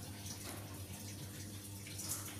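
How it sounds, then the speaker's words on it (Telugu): A bowl being rinsed with running water on a stovetop, a soft continuous splashing and trickle heard faintly and close, with no talking. "దాంట్లో కొంచెం వాటర్తో కడిగి"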